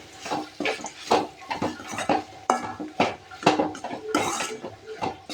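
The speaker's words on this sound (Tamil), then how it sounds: "அடுத்ததாக சோம்பு, அடுத்து ஜீரகம், இது எல்லாம் சேர்த்து ஒரு முறை நல்லா வதக்கி விட்டுருங்க" Cloves, fennel and cumin sautéed in a pan for beef gravy: a rapid string of spoon-on-metal scrapes and clinks in a busy, uneven rhythm, close and clear, with no speech.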